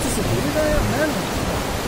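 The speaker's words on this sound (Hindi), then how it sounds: "ये देखो पानी कितना आ रहा है, नदी जैसा बह रहा है" Floodwater rushes across a mountain road in Ladakh's Zanskar valley, a steady broadband roar like a flowing river, close and continuous, with a voice speaking over it.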